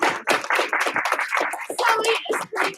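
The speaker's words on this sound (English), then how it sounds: "Give him 1 clap, 2 claps." Children in a karate class clap together twice on cue, sharp claps mixed with chatter and voices from the group, close and lively.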